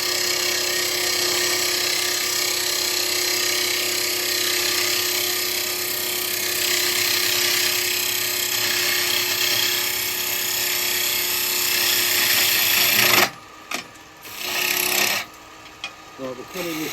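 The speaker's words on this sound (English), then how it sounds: "We're cutting downhill now at the moment." A bowl gouge cuts wood on a lathe with a continuous, close, rasping shear, which stops abruptly near the end and is followed by a few short knocks and scrapes.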